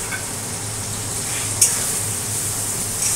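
Onion, ginger and garlic paste frying with onions in a hot pan, a steady hissing sizzle with soft stirring scrapes and a brief utensil clink partway through, no talking.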